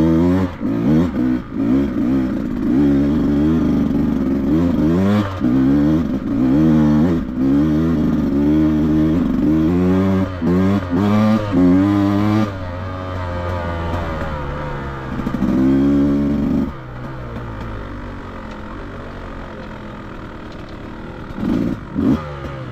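A dirt bike on a trail ride, with a Beta 200RR and a Kawasaki KLX out together, revs hard and close, its engine note climbing and falling again and again amid clattering and scraping over rough ground.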